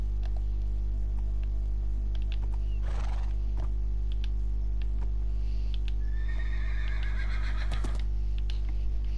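A horse whinnies loudly in the middle of the clip in a video game, with a few hoof clicks and a steady electrical hum throughout.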